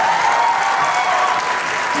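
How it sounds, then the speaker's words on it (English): Audience clapping at a university literary festival event, a brief dense burst of many hands applauding together, fairly loud and steady without pauses. "So clap nicely for that."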